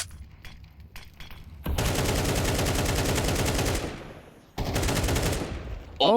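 Sustained automatic gunfire in a Counter-Strike match at a pro tournament, two long loud bursts of rapid shots separated by a brief pause, with faint talk at the start.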